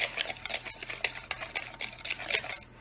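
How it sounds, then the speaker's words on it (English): Wire whisk beating flour, sugar, cocoa powder, baking soda, baking powder and salt in a bowl for hot cocoa cupcakes, quick rhythmic scraping strokes, close and fairly quiet, with no talking. "just take a regular old wire whisk and kind of whisk the ingredients"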